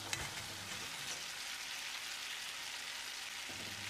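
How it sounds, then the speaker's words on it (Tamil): Fried chicken pieces stirred into a masala sauce in a pan over low flame, giving a steady close sizzle with soft scraping of the spoon throughout. "இப்போ ஸ்டவ்வில் தீயை குறைச்சி வச்சு நம்ம ஃப்ரை பண்ணி வச்சுருந்த சிக்கனை சேர்த்து கலந்து விட்டுடலாம்."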